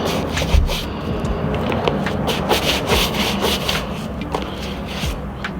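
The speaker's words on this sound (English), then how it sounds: "Just a quick scrub." Brisk back-and-forth scrubbing of shoes with a cleaning kit brush, a close, rough rasping rhythm of quick strokes that continues without a break.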